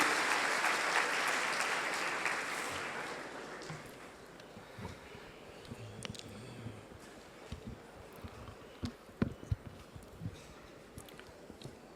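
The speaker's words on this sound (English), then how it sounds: "A big round of applause for him to deliver a speech." Applause from an audience welcoming the Chief Minister of Gujarat to speak at a chartered accountants' members' meeting, a dense clapping wash that starts loud and gradually thins out into scattered claps.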